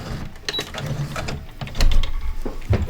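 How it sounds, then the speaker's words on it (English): A sewing machine runs in short bursts as it backstitches to finish a seam on a fall wall sign, giving rapid mechanical clatter that speeds up and stops, close and alone. "And don't forget to backstitch to finish it off too."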